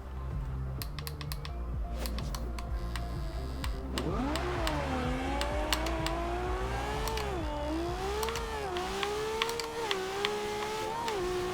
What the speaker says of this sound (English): the car does sound a little bit more aggressive